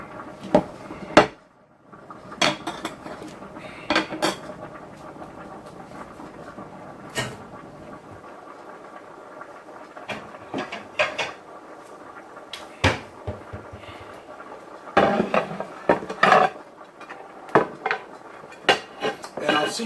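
Plates and cutlery clink and clatter in a home kitchen while chili is dished out, with sharp scattered knocks and scrapes at irregular intervals over a quiet room background.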